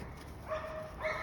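A five-week-old Boykin Spaniel puppy at a kennel gives two short, high yips about half a second apart, faint against steady background noise.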